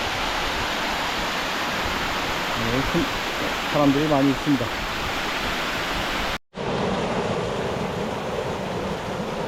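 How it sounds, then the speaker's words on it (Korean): Rushing water from an unnamed third waterfall in a narrow gorge on Bukhansan after heavy rain, a steady broadband roar filling the whole clip, with people talking over it and a brief dropout near the end. "세 번째 무명폭포 여기가 세 번째 폭포 상단입니다"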